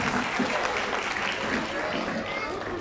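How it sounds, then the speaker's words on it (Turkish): Guests at a Black Sea regional promotion gathering in Maltepe applaud steadily, a thick, continuous patter of many hands at an even, fairly loud level, with crowd murmur underneath. "Bir alkış istiyorum efendim."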